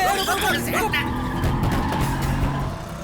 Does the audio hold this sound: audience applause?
no